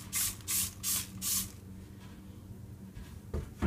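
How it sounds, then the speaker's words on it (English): A spray bottle of bathroom and kitchen cleaner, aimed at soap scum and lime buildup on a bathtub faucet, gives four quick, evenly spaced hissing sprays, then a quiet pause and one more short spray near the end. "You go ahead and spray and then let this sit for about a minute or two."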